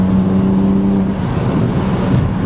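A BMW 135i fitted with standback and turboback exhausts rumbles and revs at 12 psi of boost, a loud, steady low-pitched exhaust drone running close and alone throughout.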